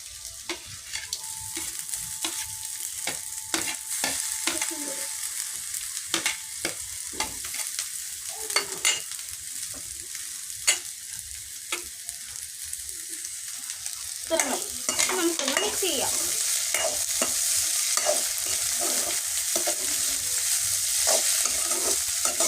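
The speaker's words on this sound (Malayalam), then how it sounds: "നമുക്ക് ഇതിന് ഇഞ്ചി പച്ചമുളക് ഇടാം പിന്നെ അതിന്റെ കൂടെ കറിവേപ്പില ഇത്തിരി ഇടാം" Ginger, green chillies and curry leaves frying in oil for a fish curry, with a steady sizzle under repeated stirring clicks and scrapes that grow louder and crackly partway through, no talking.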